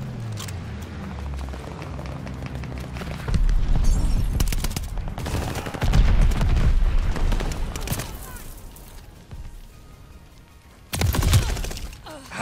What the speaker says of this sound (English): Allies call the bombing run. Incoming.